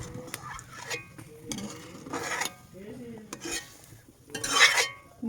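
A spoon skims foam from a pot of boiling dal, with intermittent scraping and clinks against the pot over a soft bubbling background, fairly close and quiet.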